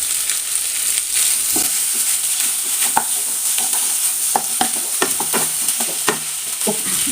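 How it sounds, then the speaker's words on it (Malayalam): Curry leaves tossed into a simmering potato curry for a breakfast dish, crackling and sizzling in the hot pan while a spoon stirs through with repeated clear scrapes and knocks, close and fairly loud. "കുറച്ചും കൂടി നമുക്ക് കറിവേപ്പില ഇട്ട് കൊടുക്കാം"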